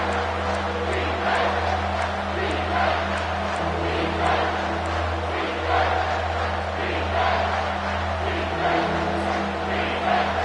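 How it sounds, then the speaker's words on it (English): A large crowd roars steadily in a big stadium at an American football game, a constant loud wash of cheering and shouting with a low rumble underneath. "This crowd is tearing the lid off this place."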